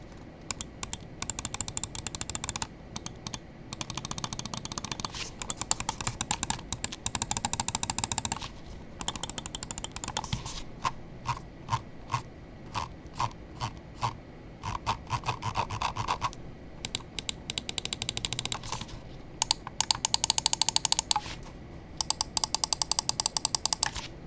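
Rapid bursts of sharp mouse-button clicks from a Fnatic x Lamzu Maya 8K mouse, crisp and close, in repeated fast runs with brief pauses between them.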